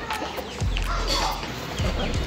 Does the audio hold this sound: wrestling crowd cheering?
no